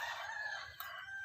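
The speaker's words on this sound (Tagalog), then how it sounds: "Ito mga manok ko." A rooster crows among chickens, a drawn-out cock-a-doodle-doo heard up close with a slight break partway through, steady and alone without any talk.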